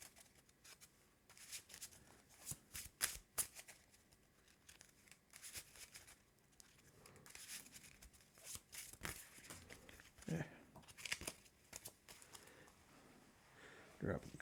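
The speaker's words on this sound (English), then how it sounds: "that is the end of the encounter deck, so we shuffle up" A deck of encounter cards from the Arkham Horror board game being shuffled by hand at a table, a series of quick riffling, flicking card bursts in irregular clusters, quiet and close.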